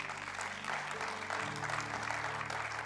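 A church congregation at a Sunday service applauds, a muffled, fairly faint patter of many hands clapping over a low sustained hum, continuing evenly throughout.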